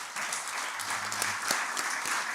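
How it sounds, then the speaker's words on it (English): An audience at a panel discussion on African customary law gives the panel members a warm round of applause, steady dense clapping throughout, with a brief low murmur of voices partway through. "we can please give our panel members a warm round of applause"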